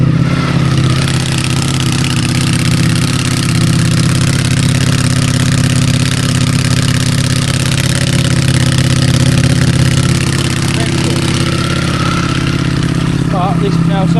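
A motorcycle engine fitted with an Akrapovic exhaust runs steadily, a loud, continuous close-up drone with a deep throbbing note that holds without pause.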